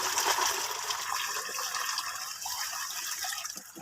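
Water poured from a container onto fertilized eggplant plants in a farm plot, a steady splashing gush running close and fairly loud for a few seconds with no talking.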